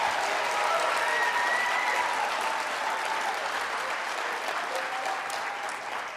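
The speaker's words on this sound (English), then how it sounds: "Please join me one more time in a round of applause" Sustained applause from an audience at an awards ceremony, steady and dense clapping that fills the whole stretch without pause, tapering slightly toward the end.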